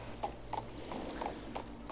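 Horse hooves clip-clop at a steady trotting rhythm in the fantasy video game King's Bounty 2, each hoofbeat close and distinct over a low ambient game hum.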